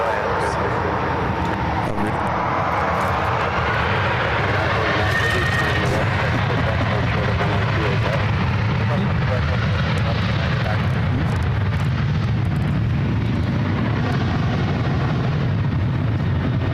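Jet airliners landing at SFO, with a double landing on runways 28: a loud, steady engine roar and rushing wind that fills the whole stretch, with voices talking faintly underneath.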